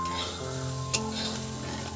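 Spices for khichuri sizzle in hot oil while being stirred, a steady close frying hiss with a few soft scrapes and one sharper clink midway, and nobody speaks.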